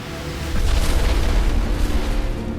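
A deep, rumbling blast swells up after a brief quiet start and keeps roaring with broadband noise, like a heavy explosion aboard a plane in flight sustained for a couple of seconds.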